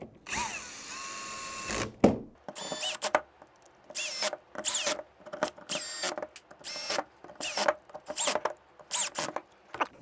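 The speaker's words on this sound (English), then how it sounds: "for this I will use an electric drill so that it goes a little faster" An electric drill whirs in repeated short bursts, each spinning up then stopping, as screws are driven one after another with brief pauses between during assembly of an SSR4.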